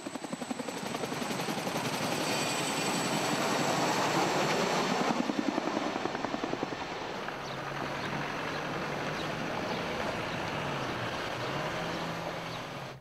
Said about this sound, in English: The medevac helicopter took the casualties to Camp Bastion